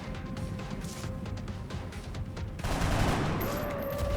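A flanking shot in the video game XCOM Enemy Within, a rattling burst of gunfire followed by a louder sustained blast and roar, fairly close.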